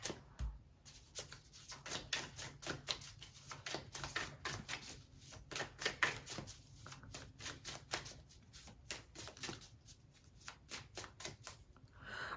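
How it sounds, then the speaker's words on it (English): Tarot cards shuffled by hand, a quiet, rapid series of soft riffling flutters and card slaps in irregular bursts, close and alone with no talking. "Let's pull a tarot card out for this."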